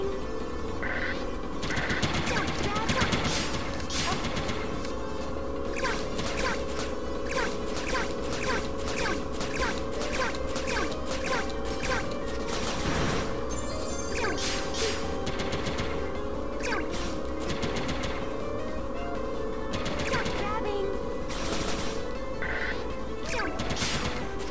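Rapid bursts of enemy gunfire fill a hectic stage of the video game Mighty No. 9, with dense, repeated shots and impacts over a steady electronic music bed, loud and continuous throughout.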